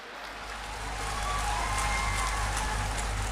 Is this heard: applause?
yes